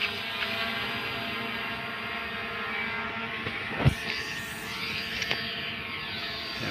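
A drone flies overhead, its whining propeller hum steady and fairly loud, swelling briefly near the middle as it passes closer, with no talk.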